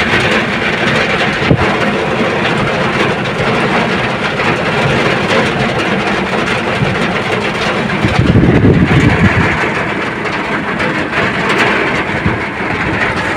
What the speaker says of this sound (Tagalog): Yan, lakas ang ulan.